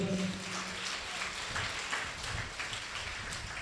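A church congregation claps loudly during a Sunday service, a dense, steady wash of applause filling the whole clip, with a brief low tonal hum at the very start.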